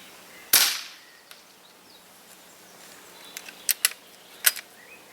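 A Weihrauch HW77k spring-piston air rifle fires one H&N Field Target Trophy pellet with a single sharp, fairly loud crack. Quiet ambience follows, broken by a few faint high chirps that are probably birds.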